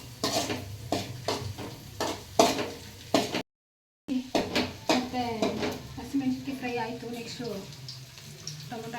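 Green chilies frying in a pan for noodles, with a steady sizzle under repeated stirring and scraping of a spatula against the pan, while a person talks over the cooking.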